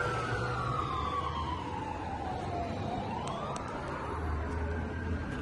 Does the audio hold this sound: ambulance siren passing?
yes